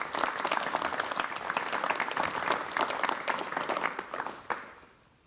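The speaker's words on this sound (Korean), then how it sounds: "여러분 박수를 보내주시면 대단히 고맙겠습니다" Studio audience applause in a 1988 KBS television talk show, a dense burst of clapping that holds steady and then fades out toward the end.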